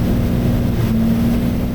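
A light aircraft engine drones loudly and steadily in flight, a close, heavy low hum that wavers slightly as it falters, heard from inside the cockpit.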